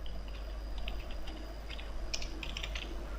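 Rapid typing on a computer keyboard while writing PHP code, a light, close clatter of irregular key taps that thickens into quick bursts toward the end.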